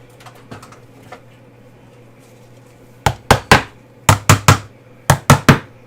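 Push pins hammered into a canvas frame. A few faint taps come first, then three sharp bursts of three quick blows each, loud and close.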